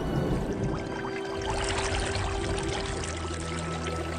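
Floodwater surges and pours across a valley in a loud, steady, broadband rush, continuous and close with no voices.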